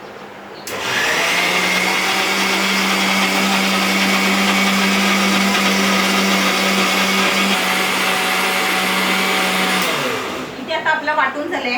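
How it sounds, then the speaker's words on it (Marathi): A mixer grinder grinds chillies and coconut into a paste for a Malvani fish curry. Its loud, steady motor whir runs for about nine seconds, then cuts off into quieter kitchen noise. "इथे आता आपण मिरची वाटून घेतली आहे"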